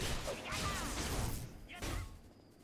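Skill effects in the video game Aion Classic, triggered by rapidly pressing the 4 key on a Corsair keyboard with a turbo macro: repeated whooshes and impact hits stack into a busy, moderately quiet wash of combat sound.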